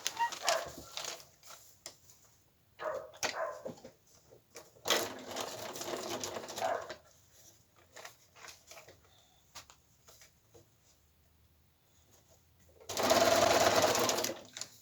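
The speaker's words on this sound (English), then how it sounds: "So let's stitch that one on first." Sewing machine stitching fabric for a quilted fabric-art bag in short bursts of rapid mechanical chattering, near and fairly loud, with a longer steady run at the end and quiet handling between.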